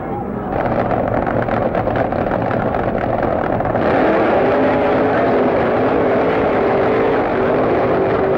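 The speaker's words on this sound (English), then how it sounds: "Wayne on has broken something, and the Mustang has done and streaks down the quarter mile to a 6:84 victory." A 1974 Mustang funny car races down the quarter mile at a drag strip, with a loud, sustained engine roar that shifts pitch partway through and carries on steadily to the end.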